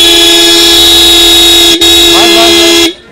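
A loud, sustained vehicle horn blares steadily for about three seconds with a brief break, then cuts off abruptly, tested at a Delhi street market.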